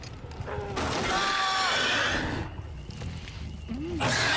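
A horse neighing in a horror survival video game, a couple of whinnying calls with tonal sweeps over busy game noise, with talk in the background.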